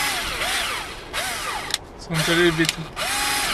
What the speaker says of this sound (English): I'm drilling a hole into a coin